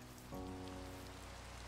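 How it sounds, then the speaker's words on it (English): Steady rain falling in Minecraft, a soft continuous hiss of drops across the whole stretch, faint and even, with a low sustained tone entering partway through and no talking. "The rain is making it look terrible."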